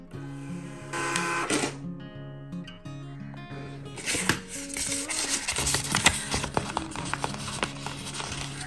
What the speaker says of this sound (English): You can click test print for the printing test.